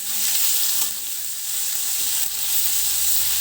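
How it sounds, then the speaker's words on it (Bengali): Turmeric and chili powder fry in a pan for a tangy hog plum and small puti fish curry, giving a steady close hiss of sizzling while the mixture is stirred, with no talking. "ভালো করে নেড়ে নিচ্ছি।"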